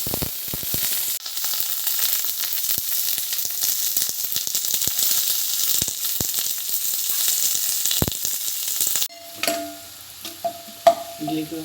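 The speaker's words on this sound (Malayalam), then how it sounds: "ഉലുവ കടുക് പൊട്ടിച്ചു" Fenugreek and mustard seeds splutter and sizzle in hot oil for rasam, a loud continuous frying hiss with scattered pops, ending abruptly as clinks and stirring sounds of a utensil in the pan follow.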